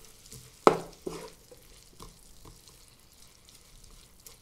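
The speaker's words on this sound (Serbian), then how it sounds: "Promešat ću i pržit ćemo još jedno 3 minuta." Peppers and onion being stirred in a frying pan, seasoned with salt, pepper and balsamic vinegar: two sharp utensil scrapes near the start, then a soft, steady sizzle with a few light clinks.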